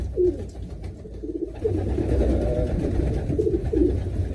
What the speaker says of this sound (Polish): mam tutaj gołębie rozpłodowe oraz młode.